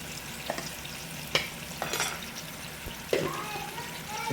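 Fried fish in soy sauce with dark sugar simmers and sizzles in a pan, broken by a few sharp utensil clinks and stirring sounds, with faint talk in the background.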